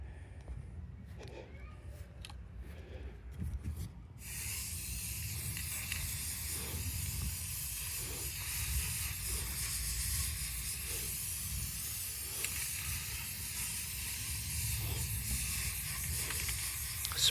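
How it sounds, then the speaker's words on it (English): Aerosol spray can putting black paint on a masonry wall, a steady broad hiss that starts after a few quiet seconds and runs on continuously, fairly close, with faint background sounds. "Spray paint."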